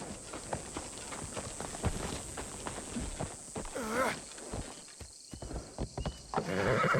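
In the Assassin's Creed Shadows video game, a horse's hooves clop in a busy, irregular patter and a whinny rises partway through, all heard against steady ambient background noise.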